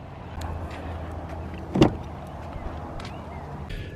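A car door shuts with a single solid thump near the middle of a short, quiet stretch, followed by soft interior shuffling on a cold day.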